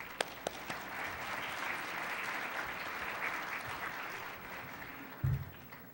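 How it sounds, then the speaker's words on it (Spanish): A panel audience applauds its speaker with sustained, moderately distant clapping in a hall, fading out near the end, followed by a brief thump. "Les pido un fuerte aplauso para el doctor."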